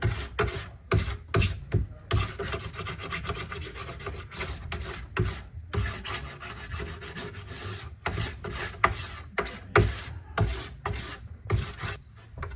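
A plastic scraper rasps wax off a snowboard base in a workshop, a close, steady run of repeated scraping strokes with short gaps between passes.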